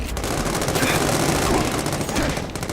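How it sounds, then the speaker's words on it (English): Rapid automatic gunfire in The Amazing Spider-Man 2 video game, a loud, continuous burst of overlapping shots filling the whole moment, with a voice briefly audible beneath it. "These guns are really loud."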